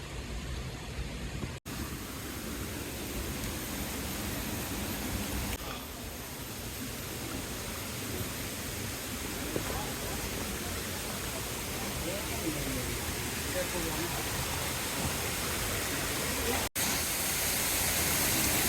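A waterfall pours beside ponds in Ubud, Bali, making a steady, broad rushing hiss that fills the scene throughout.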